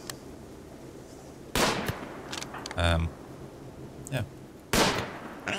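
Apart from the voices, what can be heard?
gunshots in RimWorld video game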